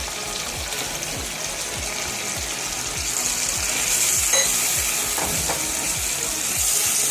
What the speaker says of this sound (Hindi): अब मैं इसमें कीमा ऐड करूंगी।